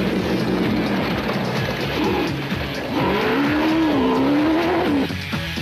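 The Total Motorsport Porter rally car driven hard at speed, its engine roaring loudly and continuously with rising and falling revs and gear changes, and a brief dip near the end.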